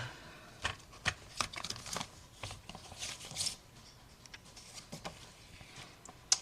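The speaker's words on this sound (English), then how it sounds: "if you hear that clicking in the background, it's my dog walking by saying hello" Light, irregular clicks and taps of a dog's claws on a hard floor patter across a quiet room, scattered and faint with brief louder ticks.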